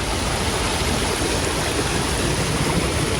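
Floodwater rushes past a low row of bricks set to hold it back in a yard, a loud, steady broadband roar like a stream, close and unbroken.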